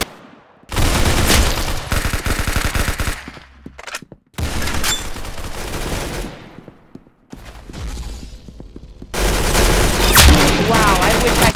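Rapid bursts of gunfire from the online shooter game Arsenal, loud and dense, arriving in several clusters with short quiet gaps between them.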